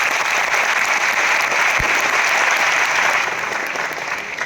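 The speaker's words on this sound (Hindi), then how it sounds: "अपने लिए एक बार जोरदार ताली बजा सकते हैं।" A large indoor audience at an award function in Mumbai claps loudly and continuously, a dense wash of applause that fades a little at the end.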